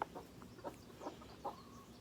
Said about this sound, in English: She is a red Cochin, which is like a bantam chicken.